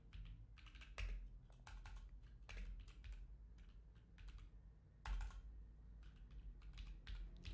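Typing on a computer keyboard while setting up a WooCommerce store, quick bursts of close key clicks with short pauses between them, quiet and alone.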